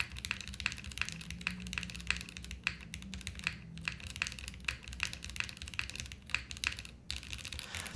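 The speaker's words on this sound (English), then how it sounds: "That's the cap switches. The cap switches aren't as loud or in your face." Typing on The Haven TKL mechanical keyboard fitted with cap switches: a steady, fairly soft stream of rapid key clacks at a close distance, irregular in rhythm with brief pauses, no voices.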